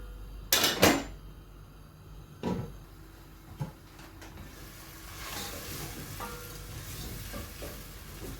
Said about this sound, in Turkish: Ara ara böyle açık karıştırıyorum.